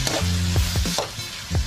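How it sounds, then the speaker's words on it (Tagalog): Bagoong alamang shrimp paste sautéing in a pan, a close sizzle broken by a few short clattering stirs and scrapes. "Pagkatapos ng saglit na pagigisa, isusunod na natin yung bagoong alamang."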